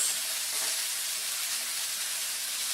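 Onions and jalapenos in hot oil give a steady, close, loud broadband sizzle with no pauses.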